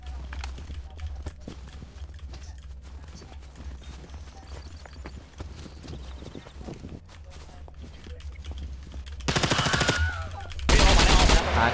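Rapid bursts of gunfire in the game SCUM during PvP, distant rattling at first, then two loud, dense volleys near the end.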